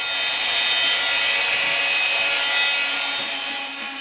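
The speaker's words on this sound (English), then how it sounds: "I cut out the opening for the cockpit with an oscillating saw." An oscillating saw buzzes steadily as it cuts the cockpit opening into the back deck of a divisible sailing kayak, a close, loud, continuous rasping whine for about four seconds that tapers slightly at the end.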